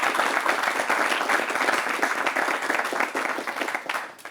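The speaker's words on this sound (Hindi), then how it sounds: "ताली बजनी चाहिए।" Audience applause at an Indian televised sports discussion event, a steady dense wash of many hands clapping for several seconds, fairly loud and even, tapering slightly at the end.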